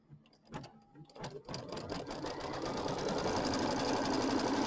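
An embroidery machine stitches an applique placement line on a January quilt-block square. It starts in a few stop-start bursts, then settles into a loud, steady, fast mechanical whir and clatter.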